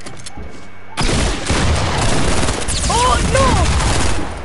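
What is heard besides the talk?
hunting rifle gunfire in a video game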